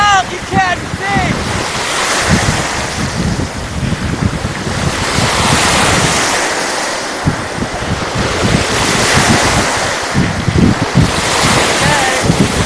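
Waves washing on the Dead Sea shore in rolling surges, with strong gusty wind buffeting the microphone throughout, loud and close, and a voice briefly heard at the start.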